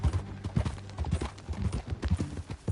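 A horse's hooves clip-clop at a steady riding pace in Red Dead Redemption 2, close and fairly loud, with soft voices under the rhythmic beats.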